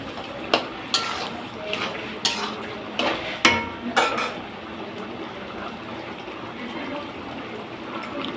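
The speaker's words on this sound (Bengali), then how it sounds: "ফোড়নটা দিয়ে আমি ভালোভাবে একটু নেড়ে দিব।" A spoon stirs a chana dal and mixed vegetable curry after tempering goes in, with several distinct clanks and scrapes against the pot early on, then quieter soft simmering.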